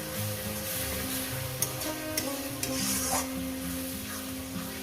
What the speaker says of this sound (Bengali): এরপর এটাকে আমি একটু কষিয়ে নেবো যতক্ষণ না মশলা থেকে একটু তেলটা আলাদা হয়ে যাচ্ছে